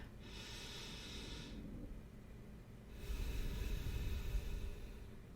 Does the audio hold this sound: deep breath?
yes